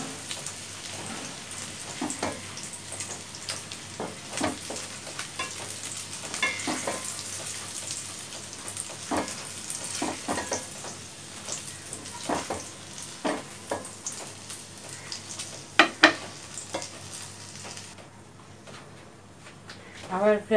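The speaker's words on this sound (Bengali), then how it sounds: "আমার পেঁয়াজ ভাজা হয়ে গেছে, পেঁয়াজগুলো আমরা উঠিয়ে ফেলবো।" Onions fry in a pan for a Bengali okra and onion curry. A soft, even sizzle runs throughout, with scattered clicks and scrapes from stirring and several sharper knocks near the end, all fairly faint and close.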